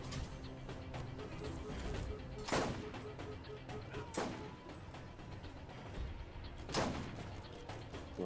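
Gunfire from the video game Borderlands GOTY Remastered, with a few sharp shots standing out around a steady background of game sound and a faint voice.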